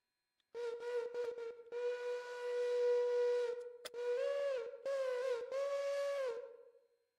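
A video game train's steam whistle sounds in several long, loud harmonic blasts, some short and some sustained, with brief gaps between them and no talk.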